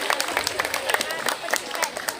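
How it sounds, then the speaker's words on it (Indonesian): Audience at a Ramadan religious lecture in a madrasah claps in a lively burst of scattered hand claps, with crowd murmur and voices mixed in. "Kasih tepuk tangan."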